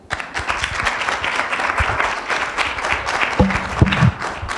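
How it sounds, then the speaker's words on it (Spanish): A room full of people at an academic law conference applauds with steady, dense clapping that holds at an even level throughout. "Le damos un fuerte aplauso"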